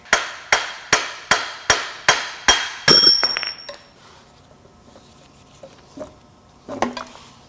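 A hand hammer strikes a metal engine part from a 6.7L Cummins diesel seven times in a steady, evenly spaced rhythm, each blow ringing sharply, followed by a few scattered metallic clanks and clinks.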